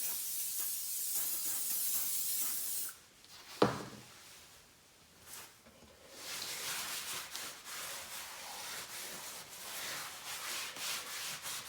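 Aerosol GT85 lubricant hisses steadily as it is sprayed onto a log burner hearth, followed by a sharp knock, a pause and soft, irregular rubbing strokes, all faint and close.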